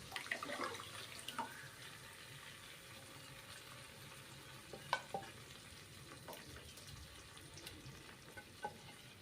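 Dal tipped into a pan of sizzling garlic and turmeric tempering for Gujarati dal, giving a steady frying hiss with stirring scrapes and a few sharp clinks from the spoon, heard alone without talk.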